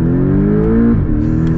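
A 2023 Porsche Boxster S accelerating hard, its engine note rising steadily in pitch as revs climb, then dropping sharply at a gear change before building again, loud and close throughout.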